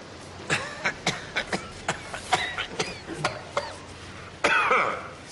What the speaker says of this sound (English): is that a cough I hear?